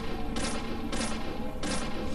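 Three loud gunshots fired at zombies in the Deadly Premonition video game, evenly spaced roughly every 0.6 seconds, each a sharp broadband crack over a steady low game rumble.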